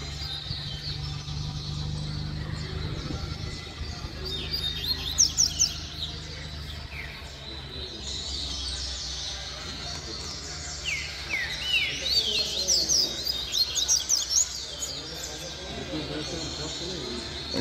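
Double-collared seedeaters (coleiro) sing in bright, rapid trills and chirps that repeat through the whole stretch, with a low steady background hum beneath the song.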